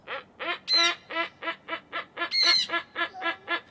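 A bird squawks and honks repeatedly in a steady, rapid series of loud nasal calls, with two longer, higher cries mixed in, close and clear with no other sounds.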